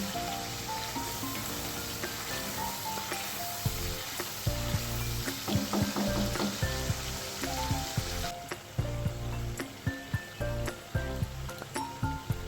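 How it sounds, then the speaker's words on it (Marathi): Masala fries until golden for misal pav, a soft sizzle with clusters of scraping and clinking strokes that grow more frequent toward the end, over a steady tonal backdrop. "तर हा मसाला आपल्याला छान सोनेरी रंगावर परतून घ्यायचा आहे"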